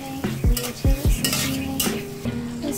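Onions frying in hot mustard oil over medium heat, a steady close sizzle broken by a few sharp spoon-and-pan knocks as they are stirred, with no talking.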